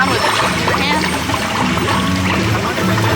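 Running water at the Moana Journey of Water attraction at Epcot, an interactive stream fed by falling rain, splashes and trickles steadily up close, a dense continuous wash with busy crowd noise beneath.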